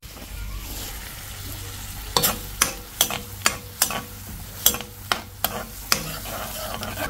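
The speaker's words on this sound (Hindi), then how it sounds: "हींग, हरी मिर्च वगैरह डाल के ये दाल को डाल के भूना है।" Boiled dal sizzles in hot oil with cumin, asafoetida and green chili, a soft continuous fry punctuated by about a dozen sharp scraping stirs of a spoon against the pan.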